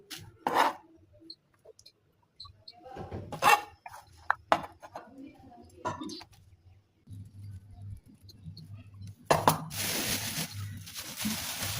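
Large cleaver chopping vegetables in a home kitchen, a few sharp separate thuds and scrapes on a board spread across the stretch, with a low steady hum and rustling in between.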